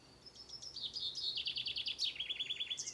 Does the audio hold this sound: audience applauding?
no